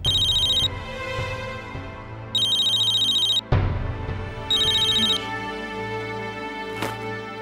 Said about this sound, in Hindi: मेरा नहीं, निशी का फोन बज रहा है।